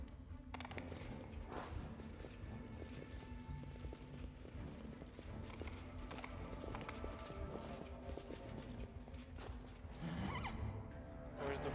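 A horse whinnies amid the clip-clop of hooves in the video game Pathfinder: Wrath of the Righteous, with a constant low game soundtrack and ambient rumble underneath.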